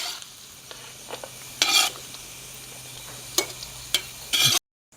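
Food for rava laddu sizzles gently in a pan while a spoon stirs it, with a steady soft frying hiss and several sharp scraping strokes against the pan, close by and with no talking.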